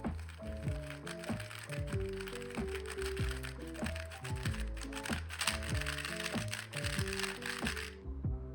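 Boron-treated V100 speed cube turning up close, a soft, less clicky run of rapid plastic taps and rattles under background music, ending abruptly.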